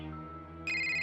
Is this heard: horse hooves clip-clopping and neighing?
no